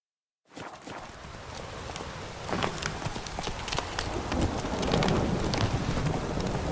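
Hooves of Roach, the horse in The Witcher 3: Wild Hunt's Hearts of Stone expansion, clip-clop at a steady walking rhythm over a rain-like wash of background texture.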